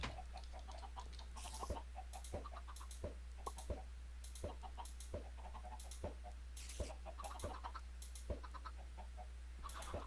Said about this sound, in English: Yeah, a lot of chickens.